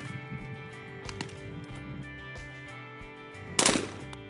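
A single sharp shotgun blast rings out at a state trap shoot competition, a loud burst near the end of an otherwise quiet, low ambient stretch.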